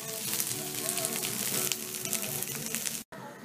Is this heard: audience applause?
no